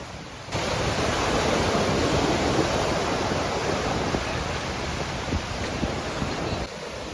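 Big ocean waves crash against the rocks along the Bandra promenade in Mumbai in stormy weather, a loud, continuous roar of surf and spray that runs unbroken through the whole stretch, with no voices.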